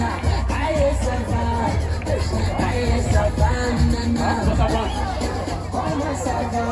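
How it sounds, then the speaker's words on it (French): A school ceremony crowd cheers and calls out in a steady, loud babble of voices, with scattered whoops and shouts over the general din. "Est-ce qu'on peut encore acclamer très fort pour cet événement?"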